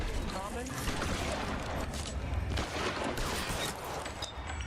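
Gunfire in L.A. Noire crackles in a rapid fusillade of shots with mechanical clatter, fairly faint and mixed with background noise, while a voice speaks briefly.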